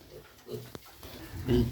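Short, low grunts from one-month-old weaned piglets close by, with a brief sharp squeal in the middle and a louder grunt at the end.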